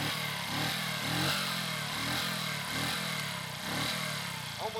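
A Masai Greystone motorcycle engine idles steadily after a kick start, a close, continuous putter with a slightly pulsing rhythm throughout.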